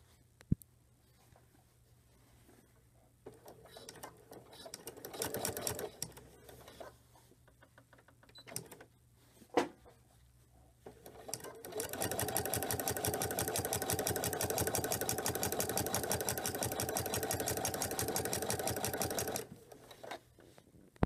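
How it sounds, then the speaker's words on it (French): A sewing machine stitches a 1/4-inch seam on a quilt's binding in a quiet room, a few short bursts of fast rhythmic clatter followed by a longer steady run of stitching. "je remets ma courte pointe à la machine et je reprends une couture à 1/4 de"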